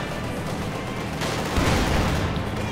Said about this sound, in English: Another bit of incendiary armor piercing round here by the looks of it by the MG42.